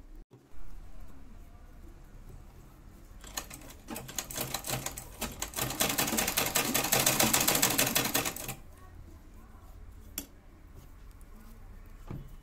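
A sewing machine stitches gota lace onto a small Kanha outfit, a steady rapid mechanical whirr running for about five seconds in the middle, with quieter handling before and after.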